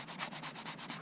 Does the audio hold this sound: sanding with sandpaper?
yes